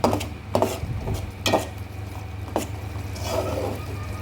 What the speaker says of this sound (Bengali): এখন আমি এটা হালকাভাবে নেড়ে দিচ্ছি।